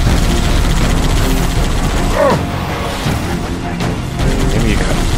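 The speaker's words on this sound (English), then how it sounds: "Explosion." Deep rumbling explosion in the video game Halo 3: ODST, a loud sustained boom with crashing debris and engine noise, with a voice briefly audible over the din.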